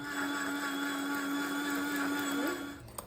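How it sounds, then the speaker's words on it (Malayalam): An electric grinder runs on a mixture with cardamom powder, a steady loud whirring whine that holds evenly and then winds down and stops near the end. "ഇതൊന്ന് ഗ്രൈൻഡ് ചെയ്തെടുക്കുക"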